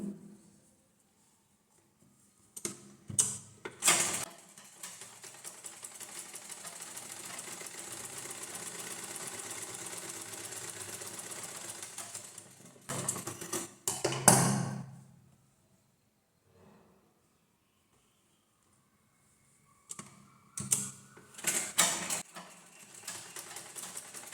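A sewing machine stitches a quarter-inch blouse seam in a long steady whirring run of about ten seconds, bracketed by shorter bursts and clicks of handling, close by with quiet pauses between.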